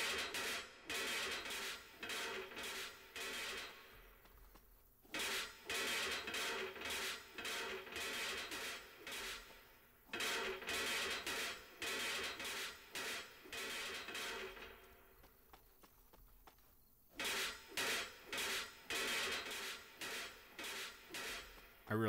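Repeated bursts of scraping and tapping as stone is worked with an ordinary, non-stone chisel, coming in rhythmic runs of strikes separated by short pauses, close and fairly loud with no talk.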